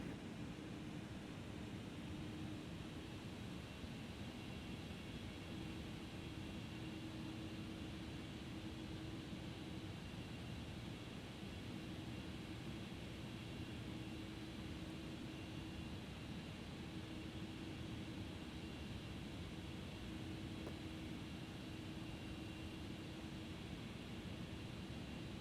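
MD-11F jet on its takeoff roll down runway 34 in X-Plane 11, a steady loud engine roar with a constant low hum and hiss holding even throughout, no voices.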